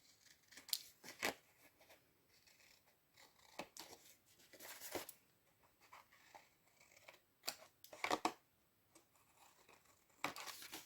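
Scissors snip through paper for a bee-themed craft, a series of close, crisp cuts in uneven bursts with brief pauses between strokes, the paper rustling faintly between snips.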